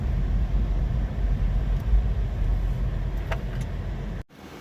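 A 2005 Toyota Prius at highway speed gives a continuous loud road and wind roar with low engine drone, heard from inside the car, cutting off abruptly near the end.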